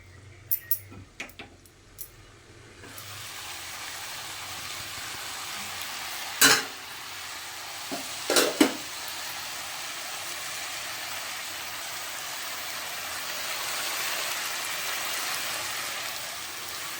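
Lentil fritters (daler bora) frying in a pan make a steady, soft sizzle that runs almost the whole time. Clattering stirs and knocks are heard early, with a couple of sharper taps in the middle.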